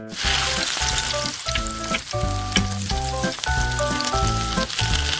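Marinated fish fries in hot oil in a pan. The loud, close, continuous sizzle crackles and pops, with no voices over it.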